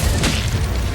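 An Incendio fire spell cast in the Hogwarts Legacy video game gives a loud, dense whooshing boom that fills the whole moment with a brief brighter burst near the start.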